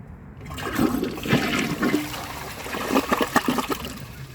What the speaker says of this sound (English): So I'm just going to give it another flush and see if it can take the rest of that.